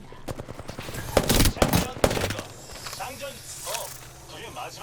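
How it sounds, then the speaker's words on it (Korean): Rapid gunfire in the video game Apex Legends, a quick burst of automatic shots and louder cracks in the middle, fading to quieter sounds, with voices talking nearby. "누가 쏜다 뭐야 뒤에서 쏘는데?"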